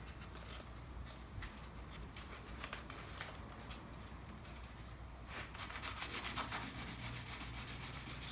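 Hand sanding a car's peeling clear coat with 600 grit sandpaper, a close, steady rubbing and scraping stroke repeated in quick rhythm, growing louder and brighter toward the end, with no talking.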